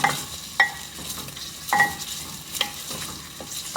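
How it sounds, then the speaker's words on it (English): Garlic stirred in a hot pan over medium-to-high heat for a Peruvian beef seco stew, with a low continuous sizzle broken by several sharp utensil scrapes and clinks, close and fairly quiet, no voices. "Stir in the garlic until fragrant. My heat is over medium. I'm gonna go to high."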